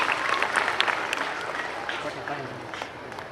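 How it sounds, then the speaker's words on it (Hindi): An audience at a school's annual function applauds the school staff: a dense, steady wash of many hands clapping together, fairly loud throughout and easing off slightly toward the end. "स्टाफ अपने लिए आप जोर से तालियां बजा दो"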